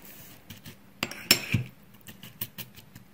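Reconstituted freeze-dried guacamole stirred in a bowl with a utensil, giving a few soft scrapes and light clinks of metal on dish over a couple of seconds, close and fairly quiet, with no talking.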